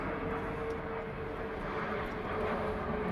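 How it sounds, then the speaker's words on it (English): An airplane passes overhead outdoors as a steady, broad, droning rumble that holds at an even level, with no voices, throughout. "There's a plane going over anyway though"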